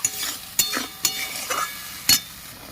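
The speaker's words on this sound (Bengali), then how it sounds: "পোস্ত বাটার বাটি ধুয়ে সামান্য একটু জল দিয়ে দিচ্ছি ভালো করে একটু কষিয়ে নেবো" Poppy seed paste fried with a little water in a pan for an okra dish, a soft sizzle under several distinct scraping stirs of a spatula, close and moderately loud.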